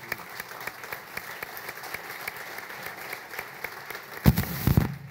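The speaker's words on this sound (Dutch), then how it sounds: "mag ik een daverend applaus voor Henny Kuiper." Studio audience at a Dutch television broadcast gives a sustained round of applause, steady dense clapping throughout with a louder burst near the end.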